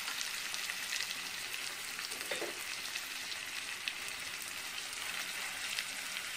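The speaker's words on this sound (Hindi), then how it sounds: "देखिए हमारा तड़का जो अच्छे तरीके से पक रहा है" A tadka of chopped onion, tomato, red chili and garlic-ginger paste fries on medium heat with a steady, soft sizzle and crackle, faint and continuous throughout.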